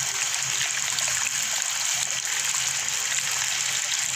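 Steady, close rush of water pouring from a hose pipe, a continuous hissing spray with no pauses during outdoor water play.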